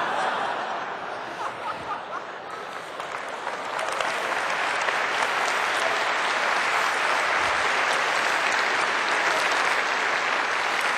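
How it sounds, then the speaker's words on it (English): An audience at a FIRST Robotics Competition kickoff event claps in sustained applause that swells after a few seconds and stays loud and dense, with a few scattered chuckles mixed in. "Oh, don't clap."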